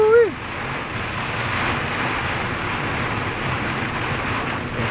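Strong wind and a heavy downpour rain storm heard from inside a car, a dense continuous roar of rain hammering the vehicle, preceded by a brief voice at the start.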